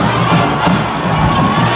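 Crowd at a high school football game in Coppell cheering loudly, a steady, dense roar of many voices with shouts mixed in, sustained throughout without a break.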